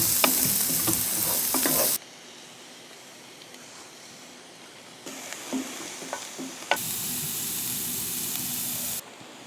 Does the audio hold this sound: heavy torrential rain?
no